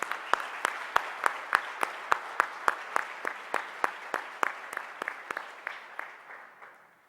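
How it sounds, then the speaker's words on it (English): Audience applause at a Department of Justice event, a steady run of loud, evenly spaced claps that gradually thins and fades toward the end. "please join me in another round of applause for Mr. Bonilla"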